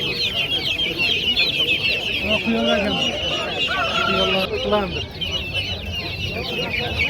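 Broiler chickens cluck and chatter in a dense, continuous chorus at a busy poultry market in Namangan, with occasional goose-like honks and faint voices in the background.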